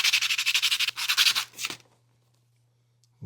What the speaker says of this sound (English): with this last sander that I used, it really kind of shaped it nicely and smoothed it out quite a bit